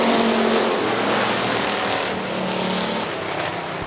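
Factory stock race cars roar off the start of the first heat at Hartford Speedway Park, a loud continuous pack of engines howling together and fading slightly as they pull away.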